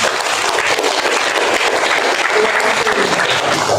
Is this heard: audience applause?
yes